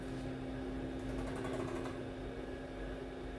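A ZM-R730A rework station hums and whirs steadily just after starting, with a constant mechanical drone and faint fan noise.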